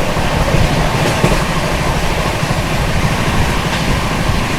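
The New Delhi–Howrah Rajdhani Express, a superfast train, runs flat out at about 130 km/h while overtaking another express, giving a loud, continuous roar of wheels and rushing air with faint rail clatter.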